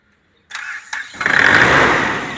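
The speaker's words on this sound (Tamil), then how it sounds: "சூப்பராக இருக்கும் இன்ஜின் சட்டமோட ஸ்டார்ட் ஆகும் வண்டி" A Mahindra Scorpio engine cranks briefly with a couple of starter turns, then catches and roars to life, settling into a loud steady run nearby.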